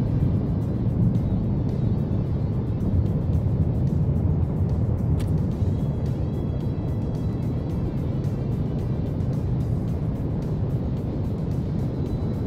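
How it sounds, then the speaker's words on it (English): Afterburner of a T-7A jet in the X-Plane 11 flight simulator: a loud, steady, low-heavy roar that holds without a break for the whole stretch. "Afterburner, let's go."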